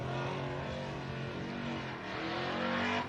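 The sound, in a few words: race truck engine passing at the Gundy 500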